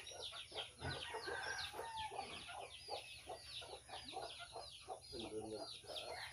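Native chickens clucking in a coop in the dark before dawn, a dense, continuous chorus of short calls from several birds close by, with faint human voices underneath.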